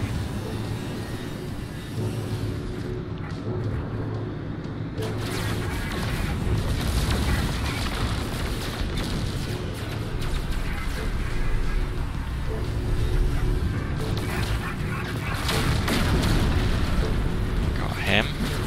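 Ship weapons firing and rumbling explosions striking a freighter in a space battle in No Man's Sky, a continuous loud low roar with bursts swelling and fading, while someone speaks over the noise.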